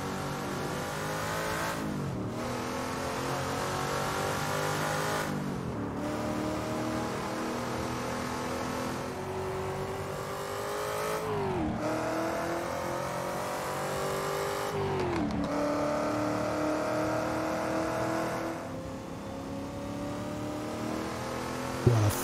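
Lola T290 prototype race car engine in Assetto Corsa revving hard through the gears, loud and continuous, with sharp pitch drops at each upshift roughly every three seconds and a steady rising whine between them.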